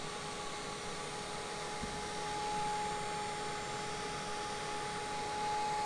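A heat tool blows steadily while heat-setting ink on a stamped image, a constant even whirring hiss with a faint tonal hum, unbroken and moderately quiet.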